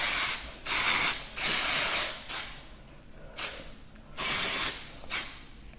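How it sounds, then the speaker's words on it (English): Dry shampoo sprayed onto hair in short hissing bursts, about six close, loud pumps of varying length separated by brief pauses. "I'm going to go in with some dry shampoo"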